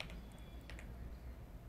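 Keystrokes on a computer keyboard typing out a game name into a search field, a short run of soft, close clicks over a low background hum.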